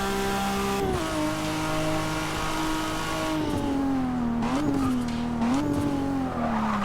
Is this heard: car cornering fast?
yes